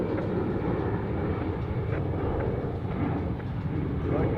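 A jet aircraft taxiing at Zurich Airport gives off a steady, loud, broadband engine roar that holds evenly without clear changes.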